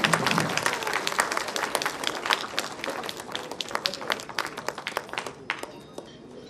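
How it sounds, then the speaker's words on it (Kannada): A crowd at the teaser launch of the action thriller film Phoenix breaks into sustained applause, with dense clapping that thins slightly toward the end and faint voices mixed in. "ಈಗ ನೀವು ಕೊಡೋ ಪ್ರೋತ್ಸಾಹ ಬರೀ ಚಪ್ಪಾಳೆ"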